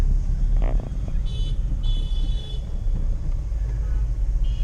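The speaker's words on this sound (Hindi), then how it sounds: "जैसा कि आप देख पा रहे हैं गाजियाबाद में इस समय का वर्तमान ट्रैफिक" City traffic in Ghaziabad heard from inside a cab: a steady low engine and road rumble with several short horn toots from nearby vehicles scattered through.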